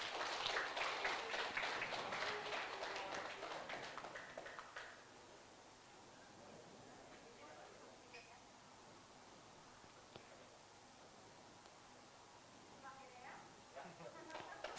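A crowd claps at a Democratic Party of West Kalimantan ceremony, a lively burst of many hands over the first few seconds that fades away, followed by a quieter stretch where a voice speaks over the room.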